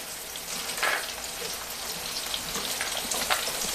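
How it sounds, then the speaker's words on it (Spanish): Mole ingredients frying in a pan give a steady, fairly loud sizzle and crackle throughout, with a few brief louder spits and stirring sounds, no talk. "Le vamos a agregar todo aquí a este sartén."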